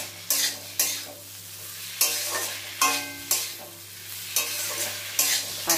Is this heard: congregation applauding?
no